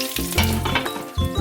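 Radish and pork patties pan-fried until golden sizzle loudly and steadily in hot oil, with a few brief swells and scrapes of stirring, no voices.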